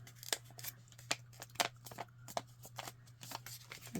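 Thick paper folded by hand and rubbed flat with a burnishing tool while making a pocket ephemera holder: quiet scraping strokes and papery crinkles in quick irregular bursts, close up over a faint steady hum.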